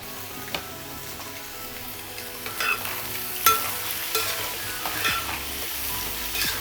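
Carrot and capsicum pieces stir-frying in a pan for egg fried rice, a constant sizzle broken by scraping stirs and occasional clacks of a spatula against the pan.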